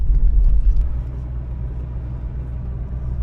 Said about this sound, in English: So we're driving to the Zone Industrial.